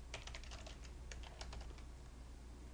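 Quiet clicking of computer keyboard keys, including the Ctrl and F2 keys, a rapid cluster of keystrokes followed by a few scattered presses over a low steady background hum.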